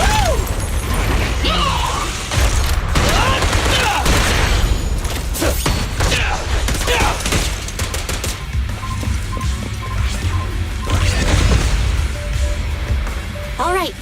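Rapid gunfire in the video game Zenless Zone Zero arrives in dense bursts of sharp, mechanical shots and clanks, loud and nearly continuous, mixed with other combat effects and occasional character voices.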